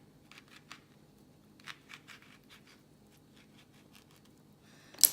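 A knife cuts through a fresh farmer's-market tomato, making a few faint, soft scraping and tapping strokes spread across a quiet stretch, with a sharper clack at the end.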